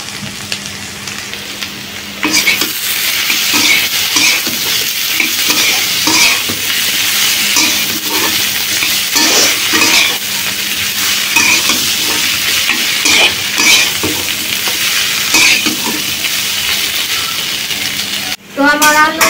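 Potatoes with salt, chili powder and turmeric are sautéed for a village-style soybean curry, with loud, continuous scraping and stirring over a constant close sizzle for nearly twenty seconds.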